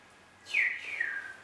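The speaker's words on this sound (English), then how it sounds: "Listen to the birds." A single bird gives a thin, high whistled call that glides downward and then repeats more softly, heard alone against a faint, quiet background.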